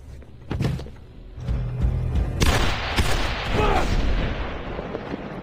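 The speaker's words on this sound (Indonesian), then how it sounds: "Dan aksi baku tembak pun tak terelakkan lagi." Gunfire erupts in a war film shootout, with sharp shots and heavy booming blasts crowding together into a loud, continuous barrage, with a voice briefly audible amid the fighting.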